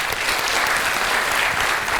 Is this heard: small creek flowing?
no